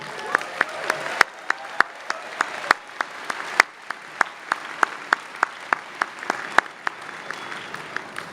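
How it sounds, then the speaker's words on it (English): An audience at a university MBA commencement ceremony applauds the faculty: steady, moderately distant clapping with sharp individual claps standing out, lasting throughout. "How about a round of applause for the faculty?"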